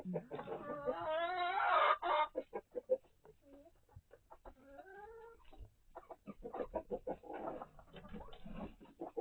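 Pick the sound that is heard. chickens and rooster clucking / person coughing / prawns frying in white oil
chickens and rooster clucking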